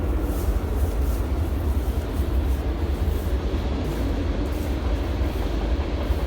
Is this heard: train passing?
yes